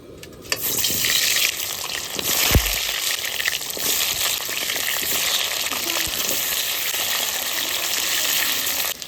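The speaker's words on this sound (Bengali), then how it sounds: "তেল গরম হয়ে গেছে এবার আলুগুলো ছেড়ে দেবো" Potato pieces dropped into hot mustard oil in a pan burst into a loud, continuous sizzle that holds steady after a brief thud and clatter of them landing, close by with no speech.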